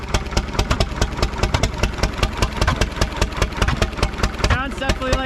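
1935 Allis Chalmers UC tractor engine running in third gear, rough and in need of adjustment: a loud, close, rapid train of regular pops and thumps, with another voice or sound breaking in briefly near the end.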